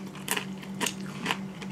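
Crunchy, salty pretzel croutons in a salad are bitten and chewed nearby, giving three distinct crisp crunches at a steady rhythm with soft chewing between, no talking.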